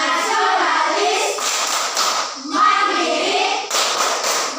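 Schoolchildren in a classroom do the PPK clap chant, rhythmic group clapping mixed with children's chanting voices, steady and close throughout.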